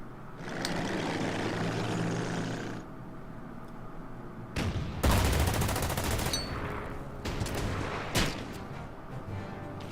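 Tank and unit gunfire in the strategy war game Order of Battle: Sandstorm, loud bursts and booming shots with rumbling engine noise, several distinct volleys spread across the stretch, no talking.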